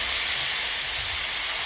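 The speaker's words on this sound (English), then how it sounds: "Listen to that sizzle." Rice and half a cup of liquid sizzle hard in a hot pan for shrimp scampi risotto, a dense, steady hiss heard up close with no talking.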